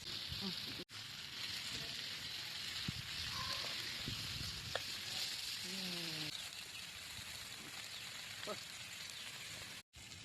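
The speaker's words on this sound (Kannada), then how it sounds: "ಬಂಗುಡೆ ಒಲೆ ಮೇಲೆ ಚೆನ್ನಾಗಿ ಫ್ರೈ ಆಗ್ತಾ ಇದೆ." Coastal-style mackerel (bangude) frying in oil on a stove, a continuous even hiss and crackle throughout with occasional faint voices in the background.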